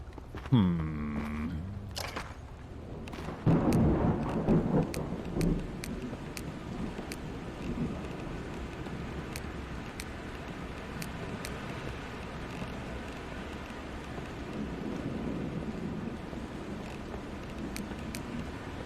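Heavy rain pours steadily in the zombie survival game Vein, with a low rumble of thunder swelling early and then fading back under the constant downpour. No one speaks.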